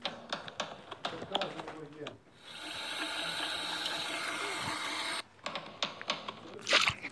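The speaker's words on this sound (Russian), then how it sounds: "включение крана для этой сцены." A water tap is turned on and runs in a steady, hissing stream for about three seconds, then shuts off, with clicking and tapping sounds before and after.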